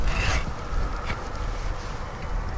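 Saw cutting a tree branch during crop-tree pruning, heard as faint, rough rasping strokes with a couple of sharper scrapes over a low outdoor background.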